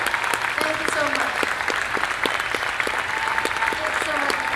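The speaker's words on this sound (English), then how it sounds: "Give a round of applause for the cast." Sustained applause from a horror-convention audience honoring the Nightmare on Elm Street cast, a dense, even wash of many hands clapping with crowd voices and a few whoops mixed in.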